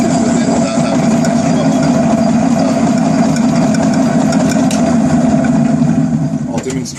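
A Shaffner lathe runs steadily throughout, a continuous mid-pitched motor hum with a whirring drone, loud and close; it cuts off briefly near the end with a short clatter.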